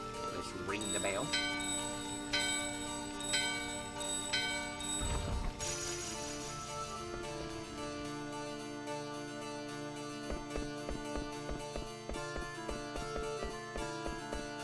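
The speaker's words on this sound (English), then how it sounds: "Let's ring the bell." A bell rung in the Final Fantasy IX video game, sounding as a bright ringing tone with lingering overtones over game music, followed by a steady rhythmic ticking pattern.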